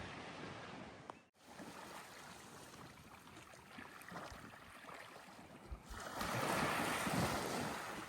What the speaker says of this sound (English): The noise of the waves has been very therapeutic.